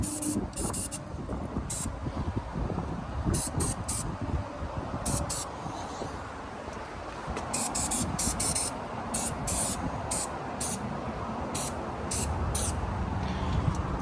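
Spray coating being applied to a 16-foot jon boat, a steady hissing wash with broken bursts and pauses, fairly loud and close, with a windy, noisy background and no talk.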